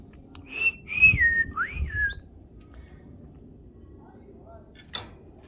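A male budgie gives a short run of clear, rising and falling whistles close by, then falls quiet except for a brief faint chirp near the end.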